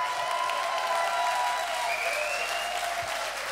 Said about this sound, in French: Alors des applaudissements s'il vous plaît pour Alan Roura.